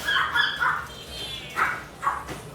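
A few short dog barks or yips, moderately close, spaced out over a steady background hiss at a market in Hai Phong, Vietnam.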